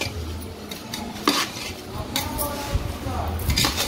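Sweet dry mango pickle being mixed by hand in half a kilo of oil in a metal pot, with scraping and clinking of a utensil against the vessel and a faint sizzle underneath, heard close.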